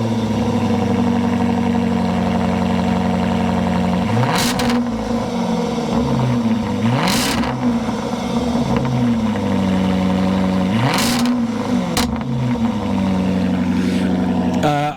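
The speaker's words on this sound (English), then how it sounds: "Let's hear the AJ V8 supercharged making some noise." A supercharged Jaguar AJ V8 blares loudly at close range from its exhausts at a car show, holding a steady rumble with several sharp throttle blips that rise and fall, with no talking over it.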